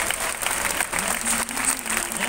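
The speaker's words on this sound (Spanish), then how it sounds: "vamos con el último aplauso previo a la salida" A crowd claps steadily before the start of a 10 km road race in Laredo, with dense sustained applause at moderate distance and a faint voice partly under it.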